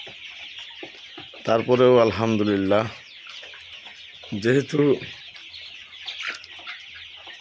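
Golden-coloured Sonali bird chickens on a broiler farm keep up a constant high clucking and chirping that fills the background, while someone speaks in two short stretches over the flock.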